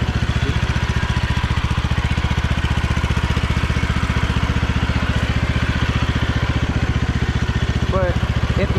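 A Troy-Bilt Bronco 46-inch lawn tractor engine runs steadily nearby with a rapid, even putter and mechanical rattle, loud and constant throughout.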